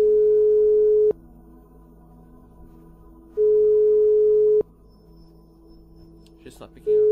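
Phone ringback tone from the video game Thing-in-Itself: two long, steady electronic rings separated by a pause, going unanswered over a faint background hum, with a brief rustle near the end.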